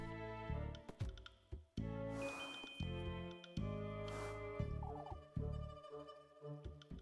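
A flock of crows caws in the video game Little Goody Two Shoes. Harsh, repeated calls overlap in quick bursts at moderate loudness, with a faint sustained tone behind them.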